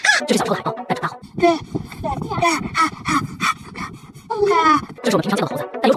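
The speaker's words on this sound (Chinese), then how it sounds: "这是小时候的海豹，但长大后" An adult seal calls with loud, honking, guttural barks and groans, close up, in a near-continuous run of rough bursts.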